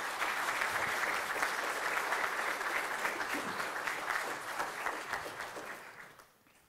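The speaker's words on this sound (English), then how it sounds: "you can clap." A congregation at a Sunday worship service claps in a dense, steady round of applause that holds for several seconds, then fades away at the end.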